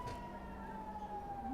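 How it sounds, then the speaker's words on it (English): Air raid sirens wail over Tel Aviv, a single sustained tone drifting slightly in pitch, heard faintly from a distance with no other sound over it. "Those are the air raid sirens."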